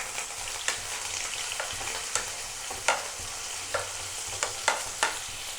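Paneer sizzles in hot oil in a pan, a steady loud frying hiss broken by regular sharp clicks of a utensil stirring, close and with no talking.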